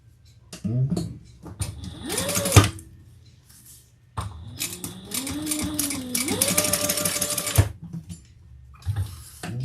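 A sewing machine basts fabric while a lining and zipper are being attached, running in several short bursts with pauses and motor whine rising and falling, close and moderately loud, with brief handling noises between runs.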